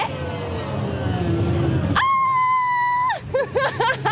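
A car speeds off, brakes and spins out, rumbling engine giving way to a long, loud tyre screech that ends abruptly, followed by short chirping skids and squeals.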